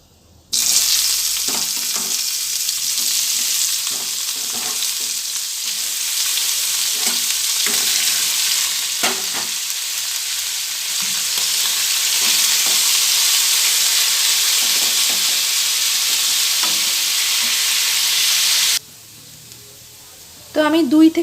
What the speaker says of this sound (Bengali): 2 থেকে আড়াই মিনিট মতো সয়াবিনটা হাই ফ্লেমে নেড়ে নিয়েছি।